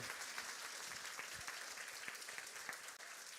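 A church congregation applauds during a service, a dense, steady wash of many hands clapping throughout at moderate loudness, with no voices standing out.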